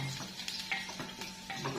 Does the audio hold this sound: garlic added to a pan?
yes